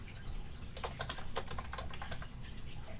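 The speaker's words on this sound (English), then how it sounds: "So we'll type that in." Fast, steady typing on a computer keyboard, a dense run of close, crisp key clicks with no talking over it.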